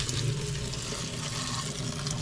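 A garden hose sprays water inside a garage, wetting down a reptile enclosure, with a steady, loud, broadband hiss and splash that runs continuously without pause.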